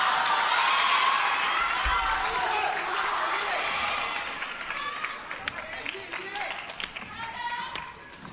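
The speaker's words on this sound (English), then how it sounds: "And the GOAT applauds as well" Crowd applause and cheering in the arena at a world table tennis team championship quarterfinal in London, with broadband clapping strongest at first, then easing, while a commentator talks over it.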